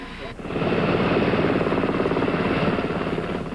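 A navy helicopter aboard a cruiser, one of two carried by the ship, starts up and settles into a loud, steady rotor drone with a fast pulsing beat that continues throughout.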